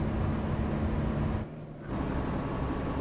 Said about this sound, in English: Truck's extremely loud.